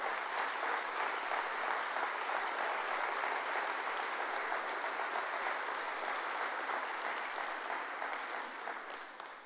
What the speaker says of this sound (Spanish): Den un fuerte aplauso a Jesús por eso.